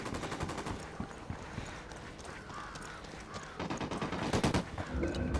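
Rapid automatic gunfire rattles through a firefight in Ghost Recon Wildlands, sustained bursts of sharp repeated shots growing louder and denser toward the end, with no voices over it.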